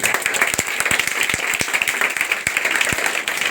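Brisk applause from a gathered crowd at a coaching centre inauguration, with many distinct hand claps standing out in a steady, fairly close wash.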